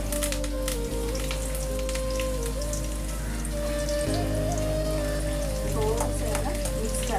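Curry leaves hitting hot oil during tempering, just after mustard seeds and cumin, for a brinjal sabji: a steady, dense sizzle and spatter of frying that runs loud and unbroken from start to finish, with no voices.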